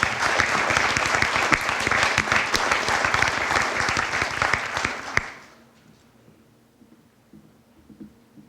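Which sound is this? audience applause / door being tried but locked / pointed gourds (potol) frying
audience applause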